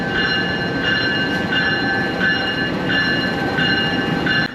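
A passenger train in Indonesia rolls along the rails with a steady rumble and rhythmic clacking, a high tonal whine repeating every second or so.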